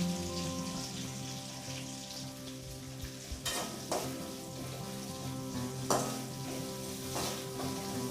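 Sliced onion sautéing in a pan for Tamil fenugreek curry, a steady soft sizzle and crackle with a few sharper scraping stirs of a spoon, close and moderately quiet, no talking.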